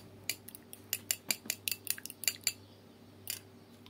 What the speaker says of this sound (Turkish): Şöyle bir çatal yardımıyla karıştırıyorum.